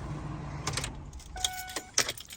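A 2001 Ford F150 pickup with the 5.4 engine is switched off; the idle rumble cuts out within a second, followed by a few clicks and a short electric whine and jingle of keys, close by.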